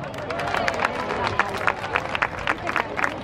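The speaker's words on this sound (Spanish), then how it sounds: "¡Un fuerte aplauso!" Audience applause at a school's 50th anniversary celebration, a lively burst of clapping with crowd murmur and voices mixed in, rising and falling in uneven surges.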